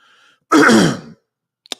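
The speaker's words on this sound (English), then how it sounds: "I'm about to start the coughing here" A single harsh cough bursts out close to the mic after a brief quiet murmur, followed by a faint click.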